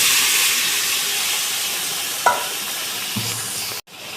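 Boiled potatoes and soybean chunks go into a hot pan of spiced masala, giving a loud, continuous hiss with a brief knock and a soft thud partway through before the sound cuts off abruptly.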